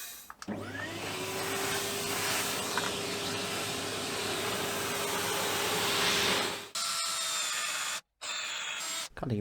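A power tool whines continuously while cutting scaffold boards, a loud steady drone for about six seconds that then cuts out, followed by short clatters and brief quiet gaps.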